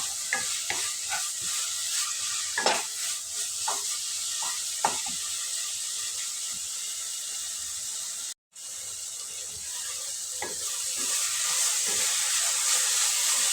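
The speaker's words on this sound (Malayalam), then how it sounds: "നല്ലോണം ഒന്ന് ഇളക്കി കൊടുക്കാം" Carrot laddu mixture with ghee is stirred in a pan, giving a continuous soft sizzle with repeated scraping strokes of the spoon and a brief gap partway through.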